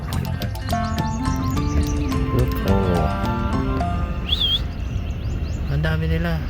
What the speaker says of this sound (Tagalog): Ito kasi mga ibon.